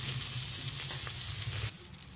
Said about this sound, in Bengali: আলু ভাজিটা লাল করে ভাজা হয়ে গেছে।